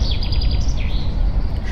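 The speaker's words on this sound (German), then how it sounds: "Schön Vogelgezwitscher hier." Birds chirp in a rapid series of bright, repeated tweets with a few swooping calls, sounding fairly near over a steady low rumble in Train Simulator Classic's Hamburg elevated-railway route.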